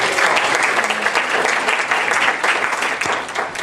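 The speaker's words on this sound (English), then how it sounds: "Let's give them a round of applause." A congregation at a Unity church service applauds warmly, a dense, steady wash of clapping that stays loud and even for several seconds with no talking over it.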